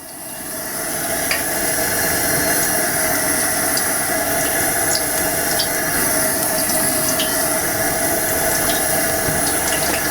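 A steady, loud sizzle of potato slices frying in hot oil, a continuous hissing crackle that swells at the start and holds evenly throughout.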